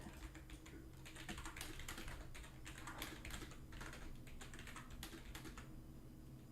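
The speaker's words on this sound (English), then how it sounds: "you guys just heard me typing just to go green now" Fast, continuous typing on a computer keyboard during a sim-racing league broadcast, with dense clattering keystrokes running throughout over a steady low background hum.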